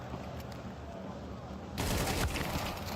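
Gunfire in a Counter-Strike 2 match, a steady low bed of game noise that swells into a louder, denser burst of shots partway through.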